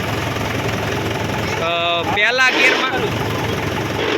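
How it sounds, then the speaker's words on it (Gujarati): A steady diesel engine of a Mahindra 475 Bhumiputra tractor idles close by, a low continuous rumble. Someone speaks briefly over it partway through. "આ મહિન્દ્રા 475 ભૂમિપુત્ર, જેની અંદર ડ્રાઈવર તરીકે આપણા સાથીદાર ખોડાભા"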